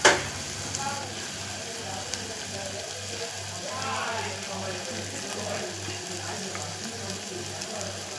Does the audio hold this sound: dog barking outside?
no